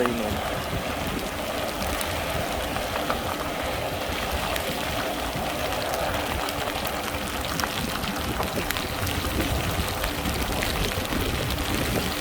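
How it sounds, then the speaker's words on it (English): Heavy rain pours steadily and loudly around a Lectric XP e-bike rider, a dense continuous wash of water and spray with no voice breaking through. "It is really raining."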